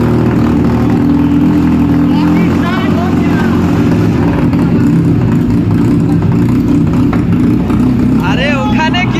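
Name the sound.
Apache RTR 180 motorcycle engine with double silencer exhaust started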